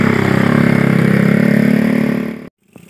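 FNHON Blast motorcycle engine climbing a steep slope drones loud and close with a steady pulsing roar, then cuts off abruptly, followed by a faint click.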